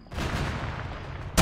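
Heavy gunfire rolls through a military video game battle as a dense, loud burst of sustained shooting, ending with a sharper nearby shot, with no talk.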